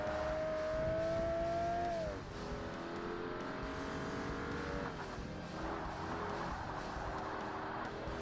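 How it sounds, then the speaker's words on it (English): Race car engine in the Forza Motorsport racing game, an amateur roadster held at a loud steady whine that drops off sharply around two seconds, then continues as a rougher drone with tire squeal and skidding as the car oversteers. "Oh, got a bit of oversteer there."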